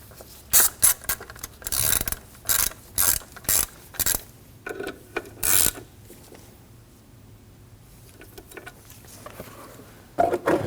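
A hand ratchet snugs up three 10mm bolts on a 2003-2006 Subaru Baja 2.5L H4, giving repeated short bursts of rapid clicking in quick succession, close and clear, then a pause and a final couple of bursts.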